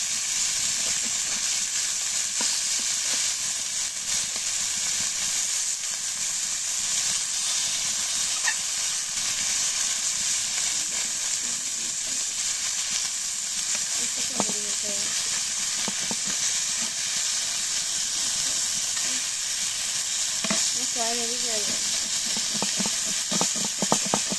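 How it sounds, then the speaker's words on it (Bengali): Fish fry in hot oil in a pan, giving a dense, continuous sizzling hiss that stays level throughout, with brief stirring clatters and faint background sounds near the end. "মাছগুলো এখন ভাজা হয়েছে"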